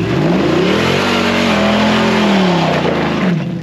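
A 2007 Jeep Wrangler swapped to a 5.7 Hemi V8 with an 8-speed transmission revs hard, rising and falling in one loud, close, sustained sweep without talk.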